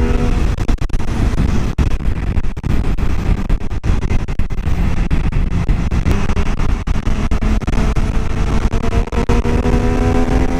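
An MV Agusta F3 675 motorcycle engine revs hard and loud for the whole stretch, a dense continuous roar with rising and falling pitch close by.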